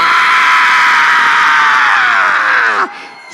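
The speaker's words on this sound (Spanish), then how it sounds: "grita que se escuche en los cielos" A church congregation shouts loudly at a preacher's call, a dense sustained roar of many voices crying out together for about three seconds before cutting off abruptly.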